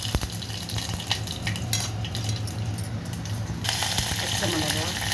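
Fennel seeds, cinnamon and onion fry in hot oil in a pan, giving a steady sizzle with stirring and the scrape of a utensil. A voice speaks briefly over the cooking.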